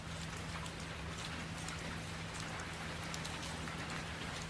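Steady rain pours down during a nighttime storm, a dense even patter of drops spread over the whole stretch with a faint low hum beneath.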